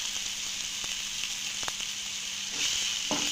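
Tomato and ground chilli, turmeric, coriander and cumin sauté in a pan with a steady low sizzle and a few sharp scrapes of the spatula, fairly quiet and close.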